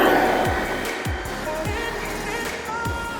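Electric motor of an Arrma Outcast 4S V2 RC car on a speed run, a loud high whine with rising and falling pitch sweeps as it accelerates past, repeated passes, no talk.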